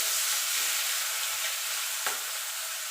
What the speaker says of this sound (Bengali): চিংড়িটা ভালো করে নাড়াচাড়া দিয়ে নেবো তেলের সঙ্গে